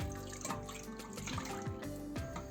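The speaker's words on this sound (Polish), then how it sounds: "Drugą szklankę mleka wlewamy w całości do garnka" Milk poured from a glass into a pot on the stove while making vanilla pudding for sweet buns, a close continuous splashing, trickling pour with bright watery spatter lasting a couple of seconds, with no talk.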